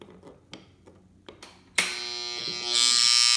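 A well water pump motor being tested for burnt coil or cut wire: a few soft clicks and taps, then the motor switches on with a sudden buzzing hum that steadies and grows louder, running alone up close.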